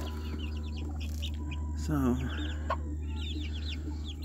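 Hens cluck softly in a backyard flock, with a brief louder squawk in the middle and scattered chirps over steady background hum, while a voice says a word.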